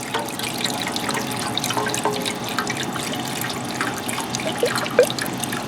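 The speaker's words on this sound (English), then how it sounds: "the water has been added to the bucket" Water pours steadily into a bomb calorimeter bucket, a continuous close splashing trickle with a few brighter drips near the end.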